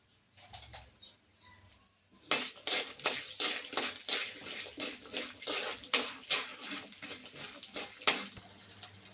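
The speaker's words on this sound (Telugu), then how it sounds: "ఎల్లిపాయలు, ఇవన్నీ వేసి కొద్దిగా వేయించుదాం" Garlic, cumin, peanuts and coriander seeds dry-roasting in a pan for kothimeera pachadi. After a quiet start, loud clattering and scraping from steady stirring come in rhythmic bursts.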